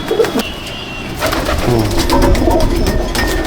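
An Arshad line racing pigeon coos at a loft, giving soft repeated throaty calls close by, with some scuffling and background noise and no speech.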